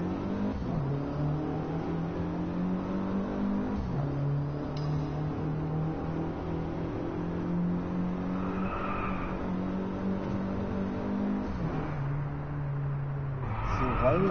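A Mercedes CLA in the racing game DriveClub drones along with a steady engine note while its tires squeal in long skids through understeer, with the pitch dipping and rising as it slides.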